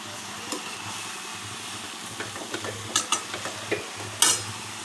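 Fenugreek greens cooked with moong dal are sautéed in a pan, with a soft, close frying sizzle under repeated scraping and stirring strokes that grow sharper toward the end. No one speaks.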